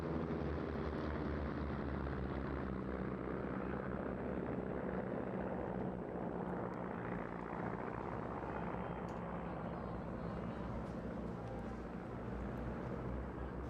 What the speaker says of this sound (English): It's coming into the overhead with number 4, trailing smoke, the Stampe formation.